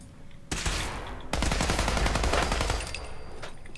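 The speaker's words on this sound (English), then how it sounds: "I picked up this automatic assault rifle a few days ago" A Fallout 4 automatic assault rifle rattles off in sustained bursts, a short volley followed by a longer continuous stream of rapid shots before trailing off, loud and close with no talking.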